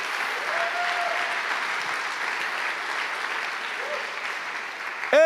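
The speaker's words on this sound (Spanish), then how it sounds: "dale fuerte ese aplauso a nuestro Dios" A church congregation claps steadily and loudly throughout, a sustained wash of applause, ending with a sudden louder shout or burst.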